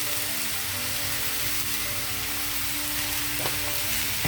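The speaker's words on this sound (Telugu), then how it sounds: "తర్వాత ఒక టమాటో, పెద్దది టమాటో కట్ చేసి పెట్టాను, ఇది కూడా వేస్తున్నాను." Chopped large tomato going into a hot frying pan while cooking cauliflower biryani, giving a steady broadband sizzle throughout with a faint clink near the end, no talking.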